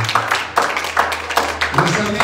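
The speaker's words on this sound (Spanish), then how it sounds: "Y ahora un aplauso grande para que cuide de mí." Congregation clapping in rhythm at a church youth service, quick regular claps about four to five per second, steady and fairly loud, with a low hum beneath.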